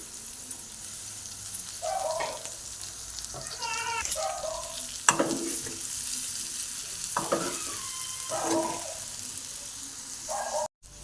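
Garlic chili egg fry sizzles gently over a low flame while a utensil stirs and scrapes the pan in intermittent strokes, with a faint dog bark in the background.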